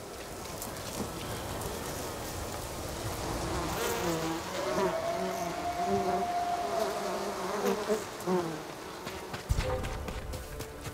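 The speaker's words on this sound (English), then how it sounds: "Angry bees may be a help." An angry swarm of bees buzzes in the game Ghost of Tsushima: Iki Island, a loud, dense, continuous drone with a humming tone rising in the middle, mixed with game noise and a thud near the end.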